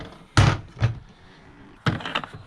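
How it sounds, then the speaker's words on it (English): The small plastic toilet cassette access door on a camper van conversion is opened, giving sharp close clicks and knocks of the latch and panel, two main impacts with a quieter rattle between. "open this little door, and in there is the cassette."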